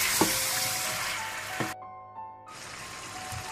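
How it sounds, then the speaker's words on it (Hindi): Ginger garlic paste fries in a pan with a steady broadband sizzle, broken by a few soft stirring knocks and a brief quiet gap before the sizzling resumes. "फिर आप साथ ही अदरक लहसुन का पेस्ट डाल दें या पिसा हुआ अदरक लहसुन। इसको थोड़ा सा भून लें आप"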